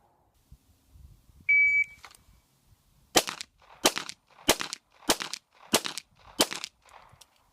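Six sharp 1911 pistol shots ring out at a steady, evenly spaced pace during a USPSA standards drill, loud and close, preceded by a brief electronic shot-timer beep with no talking.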